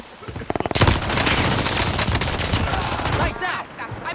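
Sustained automatic gunfire in a shooter video game: a quick burst of shots, then a dense, continuous volley with loud, close rattling that dies away near the end, with a voice briefly heard over it.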